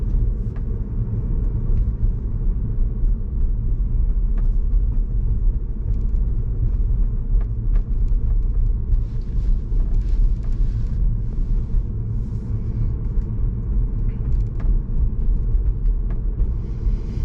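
Tesla car driving on a road, a steady low rumble of tyres and road noise from inside the cabin, continuous and fairly loud without any voices.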